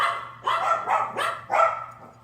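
Dogs bark in several loud, close bursts over about two seconds, with a steady low hum underneath and no talk.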